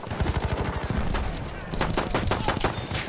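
Battlefield 1 gunfire keeps up without a break: rapid automatic bursts, close and loud, with sharp repeated shots that overlap.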